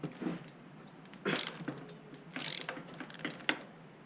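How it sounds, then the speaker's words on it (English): A ratchet wrench clicks as it loosens crank bolts on a BMX bike, with short bursts of rapid ratcheting and scattered single clicks nearby, no talking. "now, what you're going to do is remove your crank bolts here"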